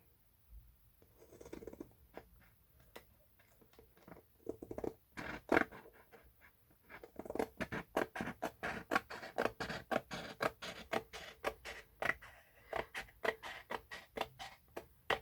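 Scissors snip repeatedly through velvet fabric, sparse crisp cuts at first, then a steady run of close, quick snipping strokes.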